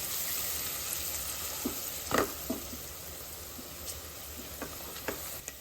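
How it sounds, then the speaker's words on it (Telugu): Country chicken curry with turmeric sizzling in a pan, a steady soft hiss broken by a few spoon scrapes and knocks as it is stirred, close by with no talking. "పసుపు వేస్తున్నాను వేసి కలుపుకొని ఇప్పుడు అదే సారీ ఒక వన్ మినిట్ మగ్గించుకుంటే సరిపోతుంది"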